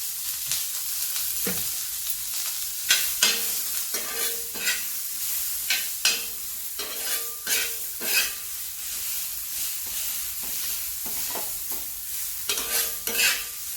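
Onion, garlic and ginger fry in a small splash of oil with a steady sizzle, broken by repeated scraping knocks of a spoon stirring the pan, close and alone.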